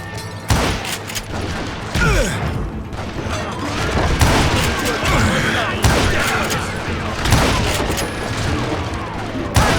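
A loud, sustained Wild West gunfight in Call of Juarez: Gunslinger, with dozens of shooters firing: dense volleys of overlapping gunshots and booming blasts that keep coming without a break.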